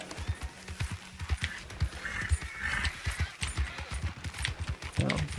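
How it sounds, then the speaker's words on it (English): Horse in the video game Red Dead Online galloping with rapid clip-clop hoofbeats throughout, close and steady, with a brief whinny-like cry near the end. "Come on, horse. Don't run into the tent."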